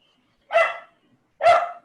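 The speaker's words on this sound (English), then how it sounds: "We got some dog stuff." A dog gives two separate sharp barks about a second apart, each clear and fairly close, with silence between them.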